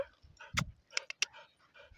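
A female dog pants outdoors on a family van trip across northern Spain, with quick breathy huffs and a few sharper puffs close by in a quiet setting, and no talking.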